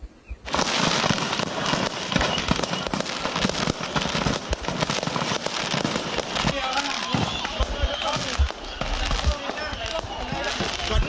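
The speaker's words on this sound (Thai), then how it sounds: "พร้อมเสียงดังจากพลุและดอกไม้ไฟครับ" Fireworks and firecrackers explode at a fireworks factory in Chiang Mai, Thailand, a dense, continuous barrage of loud cracks, pops and crackling bursts, with voices audible beneath the noise.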